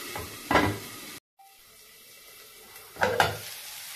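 Ridge gourd cooking in a pan on a medium flame, two brief bursts of sizzling and stirring with a lid clatter, separated by a quiet stretch of soft, low simmering.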